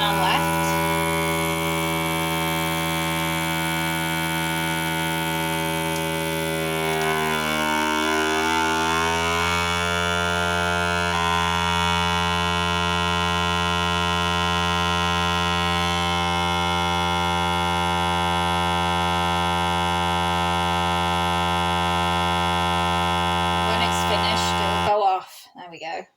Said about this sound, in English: I'm going to press this button, and that will suck out the air